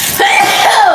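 One sudden, loud sneeze right up close after eating spicy food, a sharp burst with a brief vocal edge, with nothing else around it.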